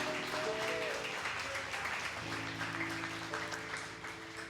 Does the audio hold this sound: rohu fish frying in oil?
no